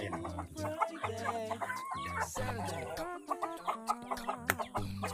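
Chickens at a rural Philippine village home clucking and squawking while being tied up, several birds close by with overlapping agitated calls and a brief crow-like cry, no talk.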